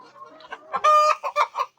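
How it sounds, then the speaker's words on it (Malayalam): Caged chickens in a poultry farm cluck and squawk in a close, busy chorus, with several overlapping calls and a louder, drawn-out cackle in the middle; no one speaks. "ഇതിപ്പോൾ ഗേജിലിരിക്കുന്ന കോഴിയാണ്"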